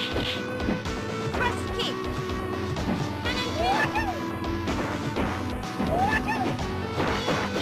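Cammy's crush kick lands with a series of loud smashing, thwacking hits in Ultra Street Fighter II, set against busy arcade music and game effects, with a game announcer's voice heard briefly.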